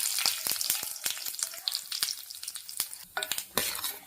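Tempering seeds and dried red chillies fry in hot oil, a dense crackling sizzle with sharp pops and spits scattered throughout, close and fairly loud.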